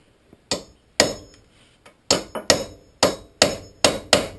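Hammer tapping the wheel hub bolts on a 2009 Infiniti FX35 AWD during front hub removal: sharp metallic strikes, first spaced singly, then a steady run of about eight evenly paced, ringing taps, close and clear with no talk.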